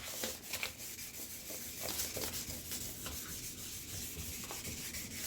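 Sandpaper scuffs back and forth across a car headlight lens in quick, close, steady rubbing strokes, a soft continuous abrasive scratching heard alone.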